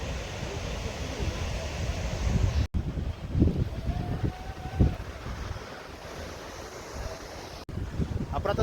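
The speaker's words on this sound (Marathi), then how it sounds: "सर्वप्रथम तुम्हाला धबधब्याचा मी व्ह्यू दाखवतो" Sai waterfall near Karnala fort roars as a continuous broadband rush of falling water. Gusts of wind buffet the microphone over it, and faint bumps break through now and then.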